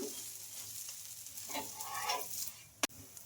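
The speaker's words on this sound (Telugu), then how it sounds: "ఇలా దోశ ఒకవైపు కాలిన తర్వాత అయితే ఇంకొక వైపు అయితే తిప్పేస్తున్నానండి ఇంకా ఈ దోశ పైన కూడా కొంచెం ఆయిల్ అయితే అప్లై చేసుకుందాం" A dosa fries in ghee and oil on a hot pan, a steady soft sizzle close by with a few faint scraping stirs and one sharp click near the end.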